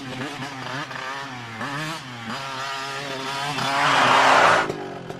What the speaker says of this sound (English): Motorcycle coming now.